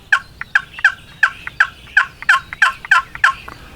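A Beaver Creek Rubber Necker turkey call produces a quick series of about ten sharp, evenly spaced chirps, loud and close, each a crisp yelping note with no voices.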